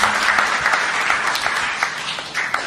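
An audience at a church testimony service applauds steadily, a dense wash of clapping that swells and dips slightly across the moment, fairly loud and close.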